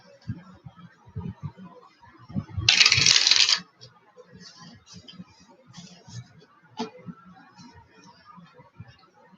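Tarot cards are riffled in one brief, crisp burst during a live reading, set among quiet soft talking and light handling noises.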